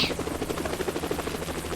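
A helicopter flies in a Roblox video game, its rotor chop steady and fairly loud throughout the short stretch, with no talk over it.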